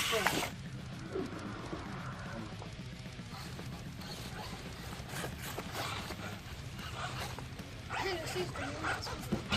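Dog barking in short bow-wows and whimpering near an indoor crawling course for 1/24 RC trucks, intermittent yips over a steady background hum and rattling, with people talking over it.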